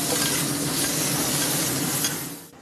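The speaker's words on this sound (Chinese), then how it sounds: "妈妈拿起锅铲炒菜" Bean sprouts and king oyster mushrooms stir-fried with soy sauce in a wok, a loud continuous sizzle with the scrape of a spatula stirring throughout, fading slightly at the end.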